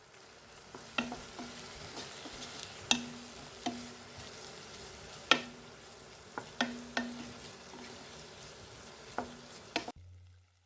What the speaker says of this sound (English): After the meat is fried, add some turmeric and let it fry again.